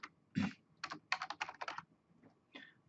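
Keys clack on a computer keyboard as a command is typed into a command prompt, a quick burst of close, crisp keystrokes with short pauses between them, and no voices.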